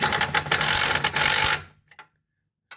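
A wrench tightens bolts on the front leaf spring of a C4 Corvette, giving a loud, dense burst of rapid ratcheting clicks for about a second and a half before it stops abruptly, followed by a couple of faint knocks.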